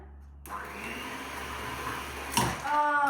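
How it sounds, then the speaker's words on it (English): Electric mixer whisking eggs into cake batter, switching on abruptly to a steady whirring hum that shifts in pitch as the beaters work, close, with a brief clatter near the end. "Now that I've added all of the eggs, it's time to whisk it again."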